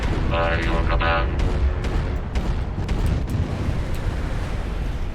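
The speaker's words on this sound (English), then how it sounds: "I dropped my arty strikes." Artillery strikes in the MechWarrior video game crash as deep, rolling explosion rumbles with sharp cracks, alongside a brief tonal alarm early on, loud and continuous with some voice underneath.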